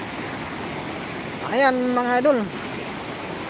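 Water rushes through a drain in a steady, broad roar that stays constant throughout, while someone speaks briefly over it partway through.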